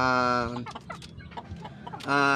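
Native Filipino chickens cluck in short bursts close by, with a drawn-out crowing-like call at the start and again at the end.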